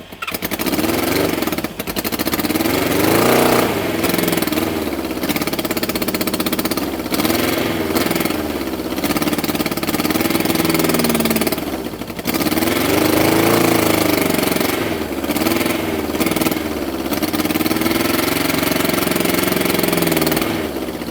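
A vintage Honda or Suzuki motorcycle engine idles roughly while running lean, a loud continuous putter with uneven, wavering revs close by.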